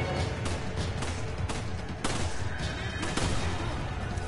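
Continuous gunfire in the survival-horror game Resident Evil 5, a dense barrage of overlapping shots and bangs at steady loudness with no voices on top.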